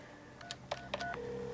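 Telephone dialing 411 for directory assistance, a quick run of touch-tone beeps followed by a steady line tone, quiet and with no talk.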